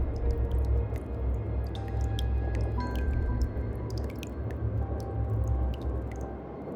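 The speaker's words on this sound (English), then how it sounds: "The water is rising faster now. It's flowing in from some unseen place" Water flows in and rises in the game Slay the Princess, heard as a steady wet trickling with scattered drips and squelches over a low rumble, continuous and close, without talk.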